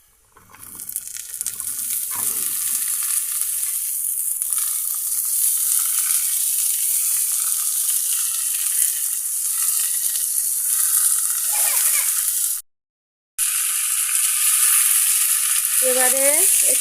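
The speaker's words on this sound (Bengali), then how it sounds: "এবার আমরা সবজিটা এর মধ্যে দিয়ে দেব।" Vegetables go into hot oil in a pan and fry with a loud, continuous sizzle close by, briefly cut to silence once, with light stirring near the end.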